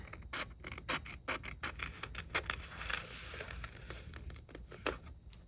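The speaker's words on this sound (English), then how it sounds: "I want to take my smaller scissors and kind of get rid of any sharp points" Small scissors trim the edges of a paper mushroom bookmark, a close run of quick, crisp snips in an uneven rhythm with faint scraping between cuts.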